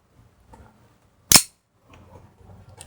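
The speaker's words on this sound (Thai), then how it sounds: "เดี๋ยวจะลองยิงให้ดูนะครับ" A single sharp gas blowback shot from a KSC M9 airsoft pistol running WE gas, fitted with a steel slide and outer barrel, cracks out loud and close between quiet handling noises.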